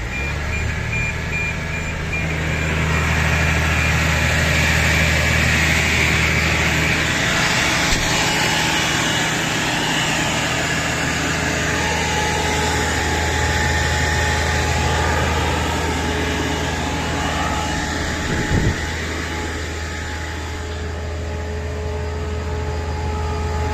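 Tractor engine running steadily while pulling a Horsch Maestro 8 seeder during spring sowing, a loud, constant drone with a persistent low hum and high whine throughout, no voices.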